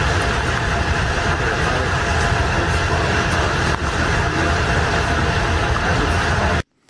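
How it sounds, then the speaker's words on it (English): Data center in Michigan putting out a constant loud broadband roar and hum, steady and unbroken for several seconds before cutting off abruptly at the end. "That is the sound of a data center in Michigan."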